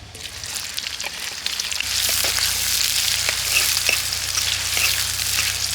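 Onions and green chillies with poppy seeds sizzle hard in hot oil in a kadai for an Andhra elephant foot yam curry, a steady loud frying hiss with scattered pops and crackles, growing a little louder partway through, with no talk.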